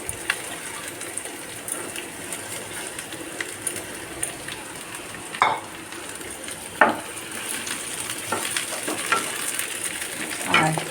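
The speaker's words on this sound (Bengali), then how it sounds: "এবার আমি দিয়ে দেবো বেগুনগুলো" Brinjal pieces frying with onions in a pan give a steady close sizzle, broken by several sharp clattering stirs and scrapes, with no talking.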